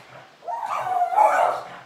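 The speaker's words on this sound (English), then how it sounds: "She's going nuts at the dog outside." An indoor dog barks and yelps in an agitated burst at another dog outside, loud and close, with whiny, strained tones.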